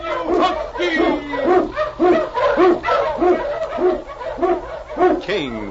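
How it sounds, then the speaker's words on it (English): Husky sled dog barking in a radio drama, a rapid run of loud, close barks and yips that blend with voices and end on a rising whine. "King, the swiftest and strongest of Eskimo lead dogs, blazes the trail through storm and snow for Sergeant Preston"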